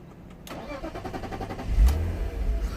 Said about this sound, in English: It cranks for a little bit.